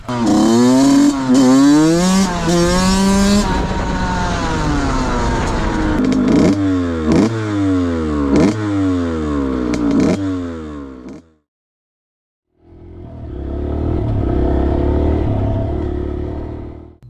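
A broken two-stroke dirt bike engine revs repeatedly in loud, rising and falling bursts, then cuts out into a second of silence before a rough idle starts up again nearby.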